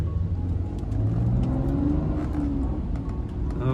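A modified BMW 525d diesel engine hums and revs steadily with a rising, whirring pitch, close and continuous for a few seconds with no talking.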